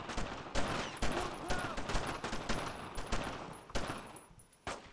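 Dense rattling fusillade of rifle and machine-gun fire in the World War II shooter Brothers in Arms, continuous bursts close and loud with sharp individual cracks, voices faintly mixed in.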